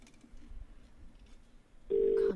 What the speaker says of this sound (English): Okay, phone. Make a call.